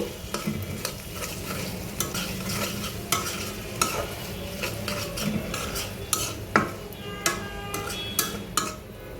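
A spoon stirs khichuri with ground coriander, chili, cumin and turmeric in a frying pan, giving a steady close sizzle with repeated sharp scrapes and clinks against the pan in an uneven rhythm, with no talking.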